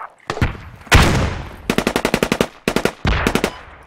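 Close automatic gunfire in the tactical shooter game Squad, with a single loud shot followed by several rapid bursts of machine-gun fire in quick succession, loud and without speech.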